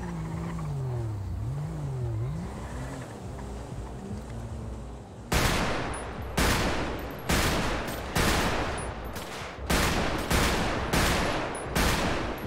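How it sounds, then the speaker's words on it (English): Gunfire in the GTA RP roleplay video game: after a stretch of quiet talk and ambient noise, a string of loud, sharp shots rings out, about ten cracks in quick irregular succession. "Hey, stop shooting"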